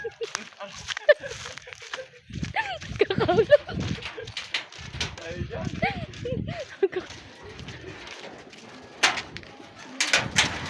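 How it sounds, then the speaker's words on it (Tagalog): Racing pigeons at a derby loft in Camalig, Albay, cooing and fluttering near the loft as a bird arrives, with soft repeated coos and wing noise under excited talk throughout. "ayun na ibon ko"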